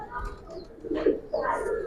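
Two Giribaz pigeons in a loft coo close up in low, rolling bursts, one swelling near the middle and another following soon after over a quiet background.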